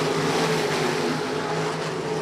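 Sprint cars racing on the opening lap, a dense, steady engine roar with a droning tone, loud and continuous throughout the brief stretch, with no voices.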